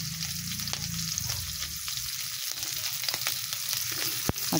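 Chopped green chilies sizzling steadily in hot oil in a pan, a loud continuous fry with a few scattered utensil taps and a sharp clack near the end; no voices.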